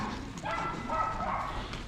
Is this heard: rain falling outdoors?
no